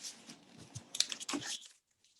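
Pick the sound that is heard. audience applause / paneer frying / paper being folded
paper being folded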